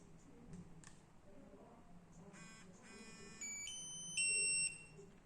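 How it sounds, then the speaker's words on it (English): Three high electronic beeps sound from a handheld skID reader against a quiet background hum, the last tones longer and louder. "You will hear 3 beeps and you will see the green LED turning on."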